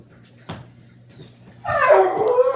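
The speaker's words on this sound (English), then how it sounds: "My dog was barking up a storm" A dog barks indoors in the background, a soft yip early on, then a louder run of sustained barking and whining near the end, with no talk over it.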